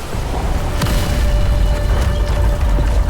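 An ancient giant machine grinds into action in Honkai: Star Rail with a loud, continuous mechanical rumble. Deep booming and ratcheting clanks sound over a heavy low drone.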